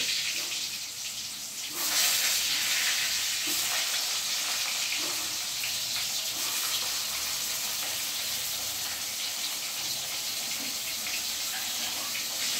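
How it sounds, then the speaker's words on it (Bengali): Pieces of pointed gourd (potol) frying in hot oil over lowered heat for Bengali niramish dudh potol, a steady broadband sizzle that jumps louder about two seconds in and then holds evenly, close and continuous with no talking. "আমি এবার আঁচটা একটু কমিয়ে নিয়ে এই তেলের মধ্যে পটলগুলো ছেড়ে দিচ্ছি"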